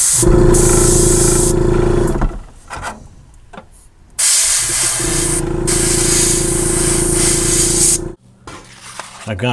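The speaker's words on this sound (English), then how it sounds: "little airbrush here and break that out for the first time on video" An airbrush sprays paint onto the wheels of a 1/34 scale 1971 Lamborghini Miura P400 SV model car. Two long, steady hissing bursts run over a low humming drone, with a short break between them.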